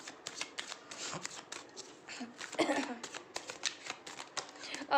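Tarot cards are shuffled by hand in quick, crisp riffling bursts, close to the microphone, with brief pauses between runs and a voice speaking softly around them.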